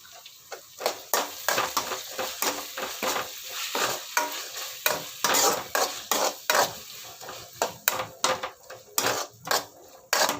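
Vegetables are stir-fried with soy sauce in a hot pan: a constant sizzle is cut through by a rapid, regular run of spatula scrapes and clacks against the metal, close and fairly loud.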